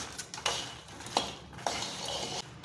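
Roasted makhana (fox nuts) being stirred in a pan with the gas turned off, a few soft scrapes and light clinks of the spoon against the metal, quiet and close, no speech.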